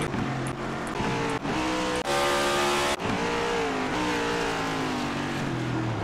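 NASCAR Cup Series race cars in the iRacing sim at the Long Beach street circuit, engines roaring loudly at high revs with gear shifts and pitch sweeps as several cars accelerate and pass close by.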